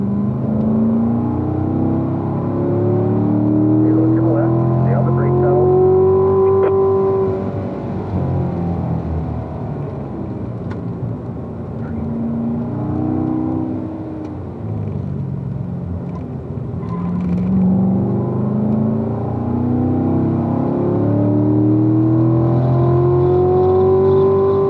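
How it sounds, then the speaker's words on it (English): A car accelerating on a race track, its engine note rising and falling in long sweeps through the turns, loud and steady throughout with no talking. "Now you can pick up the throttle a little bit better"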